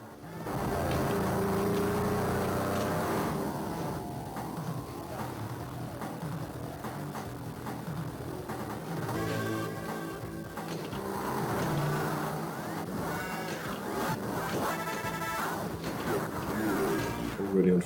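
Engine revving from a pinball table's driving video mode, a loud continuous motor roar that rises and shifts through gears, with a commentator talking throughout.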